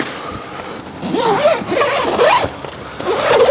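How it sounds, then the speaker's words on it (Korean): A zipper on a rooftop tent's triple-layer fabric window panel is drawn open in long scratchy pulls, close and fairly loud, with a brief pause before the final stretch. "마지막 지퍼까지 이렇게 열어주시면 전부 다 똑같이 분리가 됩니다"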